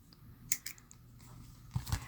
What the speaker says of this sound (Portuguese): corta o fio